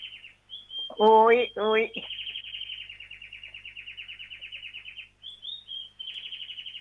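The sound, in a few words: birds chirping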